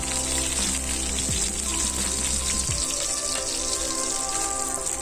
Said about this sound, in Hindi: तो इसी प्रकार से हमें आलू को डालेंगे, बिल्कुल तेल को बहुत ही ज़्यादा हीट करके इसमें डालेंगे